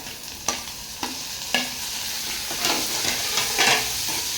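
Tomato and onion sautéing in a pan while a spoon stirs them, with steady close sizzling and sharp scrapes at regular intervals. No one speaks.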